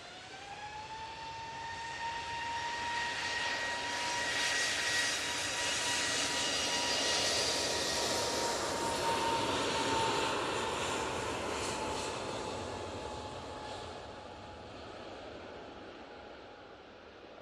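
A KLM Airbus A321neo on its takeoff roll at Manchester Airport, a distant jet roar with a rising whine that swells and fades over about seventeen seconds, no voices.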